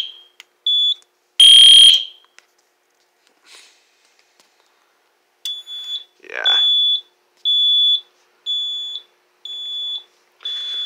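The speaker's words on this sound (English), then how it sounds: "Let my notification appliance ring again" Fire alarm notification appliance sounding during a system test, loud piercing electronic tones repeating in short regular bursts, with a brief noisy burst and a quieter stretch in between.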